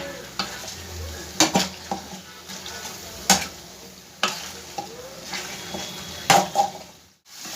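Flat beans (sim) being mashed and fried in a pan over a medium gas flame, a steady soft sizzle broken by sharp scraping clacks of a utensil against the pan at irregular intervals.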